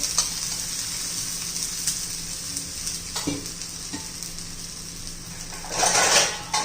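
Poha thalipeeth frying on a hot pan after oil is poured around its edges, giving a steady close sizzle with a few light scrapes and a louder hissing burst near the end.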